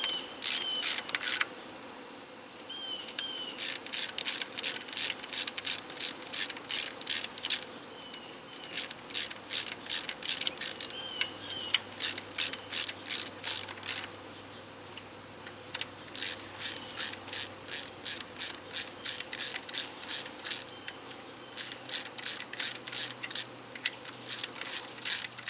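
Repeated ratchet clicking from a hand ratchet snugging spark plugs on a 2004 Pontiac Vibe / Toyota Matrix engine, coming in several bursts of quick, evenly spaced clicks with short pauses between, fairly close and loud, with no talking.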